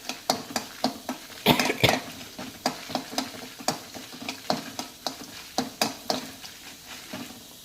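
Green chillies fry in a pan until crisp while a spoon scrapes through them in a steady rhythm of sharp strokes over a faint sizzle, with one louder burst of stirring early on.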